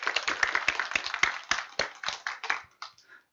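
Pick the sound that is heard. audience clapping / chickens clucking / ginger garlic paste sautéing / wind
audience clapping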